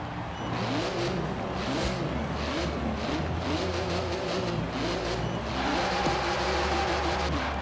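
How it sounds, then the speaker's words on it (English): Porsche 911 GT2 engine in Forza Horizon 4, a steady loud car engine drone with rising and falling revs throughout, close and continuous with no talk. "I'm okay with this GT2 engine"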